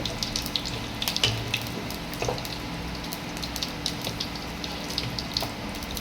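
Whole spices for a papaya chutney tempering fry in hot oil, a soft continuous sizzle with scattered crackles and pops close by, and no voices.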